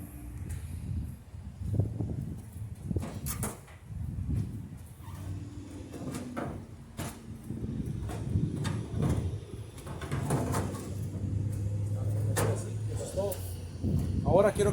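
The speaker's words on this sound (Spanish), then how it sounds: "Procedemos a poner la puerta." Door being fitted onto a Samsung clothes dryer during a repair, with scattered plastic clicks, knocks and scraping from the panel, mixed with a voice talking throughout.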